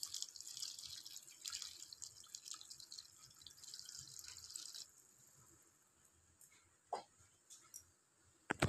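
A bowl of water pours into a pot of rice-and-lentil khichuri, faint and close: a few seconds of splashing flow, then scattered drips and small splashes.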